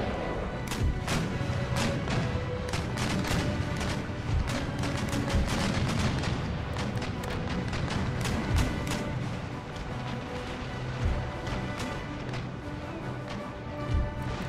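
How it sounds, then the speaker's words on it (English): Cannon fire from sailing warships in the naval battle of Empire: Total War, a dense, steady rumble of repeated booms and crashing impacts, some close and sharp, others distant, with no talking. "You guys both fire round shot"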